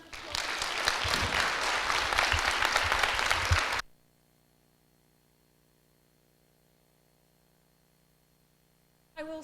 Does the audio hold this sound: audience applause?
yes